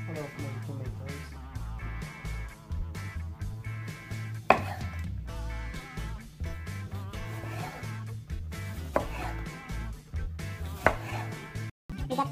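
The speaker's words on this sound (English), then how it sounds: "Slice of all of my tomatoes." Knife slicing tomatoes on a board while preparing a French tuna quiche: repeated crisp, close cutting taps in an irregular rhythm over background music, with a few sharper knocks.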